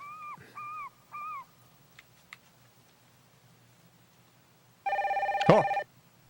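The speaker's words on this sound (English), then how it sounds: "That sounds like my cell phone" A cell phone rings in the Detective Barbie PS1 video game, preceded by a few soft hooting chirps and faint ticks, then one loud electronic ringing burst of about a second, close and clear.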